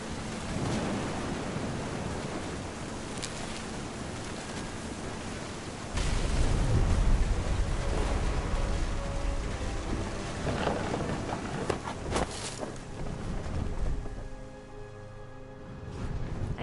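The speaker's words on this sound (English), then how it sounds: "The thunder sounded much too close and full of angry power." Thunderstorm in the video game What Remains of Edith Finch: steady rain hiss with heavy, close rumbling thunder swelling mid-way, then easing to softer rain with faint tonal ambience; no voices.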